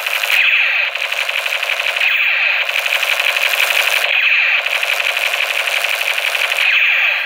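Toy military blaster gun firing in repeated bursts, a rapid rattling electronic machine-gun effect cycling about every one and a half seconds, loud and close with no talk.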